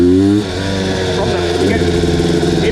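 A 250R engine with a freshly cleaned power valve revs close by, its pitch dipping and then climbing as it is lugged and pulled under load, while someone talks over it.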